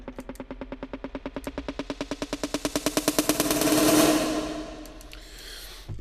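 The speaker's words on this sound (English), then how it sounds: "Let's hear how the insane machine gun snare roll sounds." A produced machine gun snare roll on a drum machine: rapid snare hits accelerate into a dense buzzing roll that swells loud, peaks, then fades away, with no talk over it.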